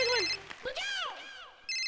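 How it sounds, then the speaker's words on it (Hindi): A telephone ringtone chirps in short tonal bursts at the start and again at the end on a comedy show stage, with a lively voice sounding in between. "सलमान खान का फोन"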